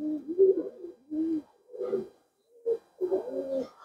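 Red-eyed pigeons, a high-flyer breed, coo in short repeated low throaty phrases, about five close calls in a few seconds with brief pauses between them.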